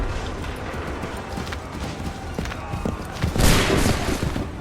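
Musket volley gunfire in the video game Assassin's Creed III: sharp muzzle cracks ring out over a steady din of battle, building to a louder burst of massed shots near the end.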